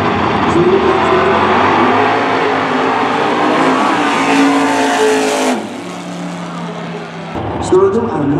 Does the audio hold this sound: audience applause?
no